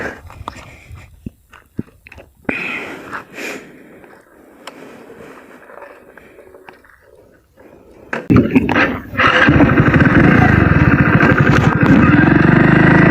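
Hero Splendor motorcycle climbing a hill: quiet footsteps and handling at first, then the engine starts loud and close and keeps revving steadily under strain, with brief voices early on.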